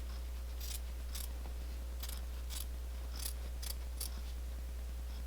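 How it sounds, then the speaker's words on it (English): Scissors snip around a circle of fabric for a yo-yo flower, short crisp cuts in uneven bursts over a steady low hum, no talking. "We're just going to cut all the way around."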